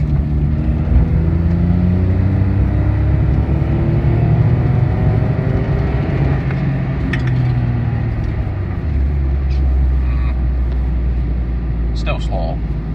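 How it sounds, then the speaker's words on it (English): A 1 litre Citroen petrol engine revs higher up the range while accelerating, a steady loud droning rise in pitch heard from inside the car, with rumble throughout. "Now, let's see what it's like higher up the rev range."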